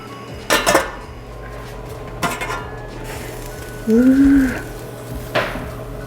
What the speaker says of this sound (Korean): 이렇게 해서 뚜껑 닫고 센 불에서 한 15분 찔게요